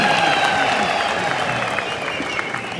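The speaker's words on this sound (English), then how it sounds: "Another round of applause for our national chairman" An audience applauds at a teachers' campaign launch rally, steady dense clapping from a crowd with a voice speaking over it, fairly loud and sustained throughout.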